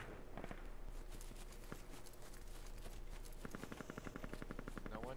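Faint distant gunfire in the military shooter Squad, scattered shots early on and then a rapid automatic burst near the end, all under a steady background hum.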